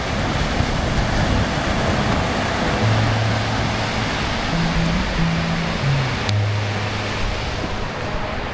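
Waves on the beach at Long Beach, Batemans Bay, on the NSW coast: a steady, loud wash of surf mixed with wind noise, with faint low hums passing in the background.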